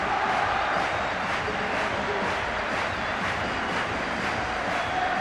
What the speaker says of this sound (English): There is a loud, proud crowd here